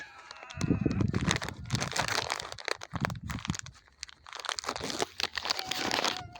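Package of cat food being opened by hand, crinkling and crunching plastic in irregular close bursts with brief pauses between.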